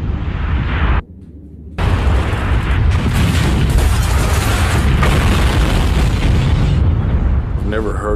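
Oil refinery explosion in Texas: a sustained, roaring blast rumble fills the air after a brief dip, loud and broad, continuing as a heavy rolling boom with turbulent noise throughout.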